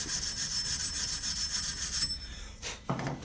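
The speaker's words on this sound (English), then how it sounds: "Just get our wire brush, give our hub a little bit of a clean" A wire brush scrubs rust off a car's rear brake hub in quick rasping strokes, close and steady, then stops with a couple of brief knocks at the end.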